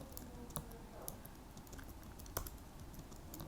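Soft, faint keystrokes as someone types code on a computer keyboard, a few sharper clicks scattered through a quiet background hiss.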